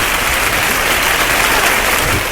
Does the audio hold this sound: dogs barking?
no